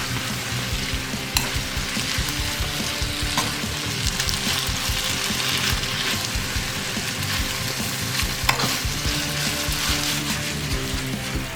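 Angel hair pasta tossed and stirred through an eggplant pomodoro sauce in a hot pan, giving a steady close sizzle and scraping with a few sharper clatters, no talking.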